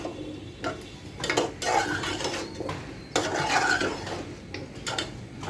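Pumpkin pieces are stirred and sautéed in spice masala with dried fish and prawns, a spoon scraping and knocking against the pan in uneven bursts at close range.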